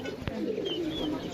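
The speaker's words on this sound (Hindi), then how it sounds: "आ गए कबूतर ए आ गए" Soft, low pigeon cooing murmurs steadily close by, with a single sharp knock near the start and faint higher chirps in the background.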